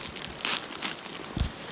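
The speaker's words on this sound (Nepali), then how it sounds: "मम्मी चाहिँ चाउचाउ फुटाल्दै हुनुहुन्छ" A packet of instant noodles is crushed by hand, giving short bursts of crinkling and crackling plastic with brief pauses between squeezes.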